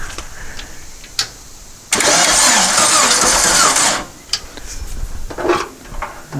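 A dune buggy engine, primed with fuel down the carburetor, cranks in one loud, sustained burst of about two seconds without catching, framed by quieter clanks and metallic knocks before and after.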